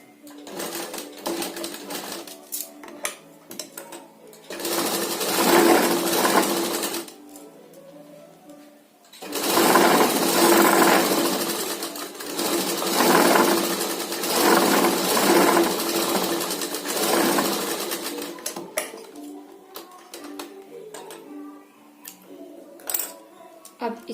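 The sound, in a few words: sewing machine stitching a tassel cord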